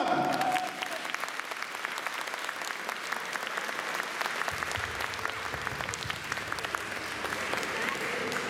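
An audience at a Christmas living nativity play in Quiévrechain applauds the actors, sustained loud clapping from a crowd that continues without a break to the end.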